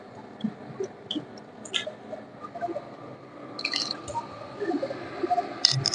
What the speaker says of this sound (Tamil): இப்ப நம்ம பருப்பும் புளியும் கரைச்சி அதுல ஊத்துறோம்.